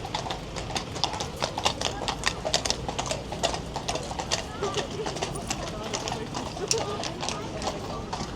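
Steady clip-clopping of horse hooves from carriages passing nearby near Big Ben in London on New Year's Eve, rhythmic and clear, with street noise and some talking mixed in.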